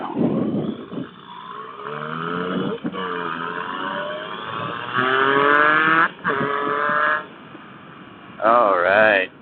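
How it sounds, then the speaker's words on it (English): A 2016 Yamaha FJ-09 inline-triple motorcycle pulls away hard, its loud, close engine note climbing in pitch through several surges separated by brief gear-change dips. "It's warmed up. I can rev it up a little bit, see what it sounds like."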